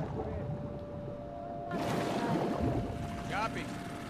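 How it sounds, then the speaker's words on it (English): A boat engine runs on the ocean in the video game The Last of Us Part II, a steady drone with a low hum that swells louder partway through, alongside water and wind noise. "Got the engine back up."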